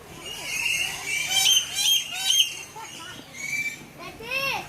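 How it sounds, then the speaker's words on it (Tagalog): Many birds, mynas and parrots, squawking and calling in a safari aviary in Cebu, harsh overlapping squawks and chirps in repeated bursts, with people talking nearby. "It's a lot of birds."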